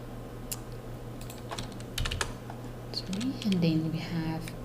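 Quick keystrokes on a computer keyboard while entering billing details into web software, a cluster of light clicks under a person talking.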